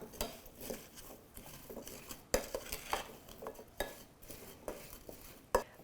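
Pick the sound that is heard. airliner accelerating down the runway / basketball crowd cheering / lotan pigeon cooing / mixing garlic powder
mixing garlic powder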